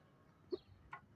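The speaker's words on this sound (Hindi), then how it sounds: "ये देसी मुर्गा है, खामखा बच्चों को मारने की कोशिश करेगा।" A desi rooster gives two short, quiet clucks about half a second apart, faint against a hushed background.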